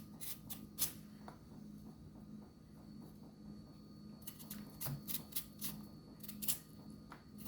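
Irish potatoes being peeled with a knife for Jamaican fish soup, heard as soft, quiet scraping strokes in irregular clusters over a steady low hum, with no one talking.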